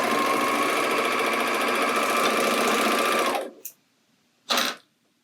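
A sewing machine runs steadily at speed while stitching closed the edge of a dress, a continuous whirring hum that stops abruptly, then two short bursts of stitching follow.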